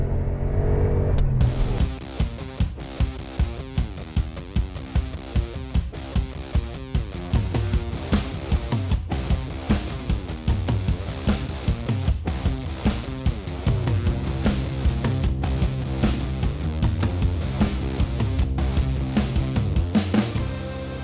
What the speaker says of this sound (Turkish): Tekrar yapıştırıyorum ve otomobil gidiyor.